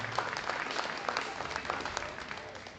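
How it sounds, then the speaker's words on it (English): Spectators in a show barn give a steady round of applause for young exhibitors at a spring livestock show with heifers, a moderately loud mass of clapping with crisp individual claps standing out throughout. "Let's go ahead and give a big round of applause to all these young kids here this morning."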